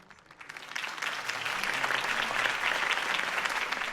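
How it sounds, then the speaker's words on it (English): Crowd applause after Harvey Dent's campaign speech, many hands clapping steadily in a large space, swelling from quiet to full strength and holding for several seconds. "could have heard that applause"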